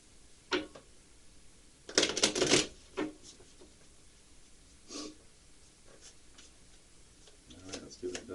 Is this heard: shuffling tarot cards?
yes